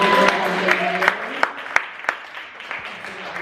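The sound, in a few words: audience applause for nonprofit board members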